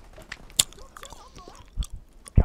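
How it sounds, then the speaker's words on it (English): A person chewing a large wad of gum up close, with wet smacking and crunchy bites at irregular moments and a few sharp louder chomps. "I have to chew this gum"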